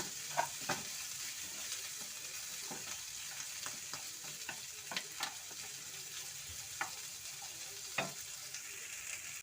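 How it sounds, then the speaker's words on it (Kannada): Pepper chicken sizzles steadily in a hot pan, with a spoon scraping and stirring at irregular intervals over a continuous frying hiss. "ಚೆನ್ನಾಗಿ ಫ್ರೈ ಆಗ್ತಾ ಇದೆ."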